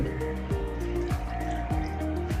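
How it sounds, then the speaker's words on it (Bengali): Isopropyl alcohol poured into a container for homemade hand sanitizer, a soft close trickle with gurgling, bubbling tones that rise as the vessel fills over a couple of seconds. "দেখতে পাচ্ছ আমরা আইসোপ্রোফাইল অ্যালকোহল পুরোটা ঢেলে দিলাম"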